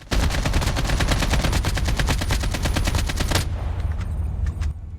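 Rapid automatic gunfire in Call of Duty Mobile rattles loudly in one long burst, then stops, leaving a low rumble and a few faint clicks.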